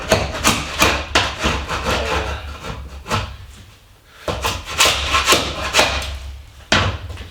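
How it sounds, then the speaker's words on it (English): A hand floor scraper chops and scrapes at old linoleum floor tile, a series of loud rough scraping strokes in quick bursts with a short pause midway, close up with no talking. "here we're just using this floor scraper, and you got to kind of like dig the corner in and chop up a little piece"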